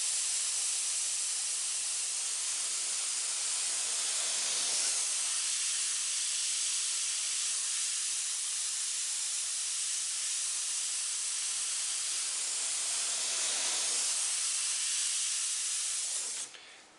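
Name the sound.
paint being sprayed as a light mist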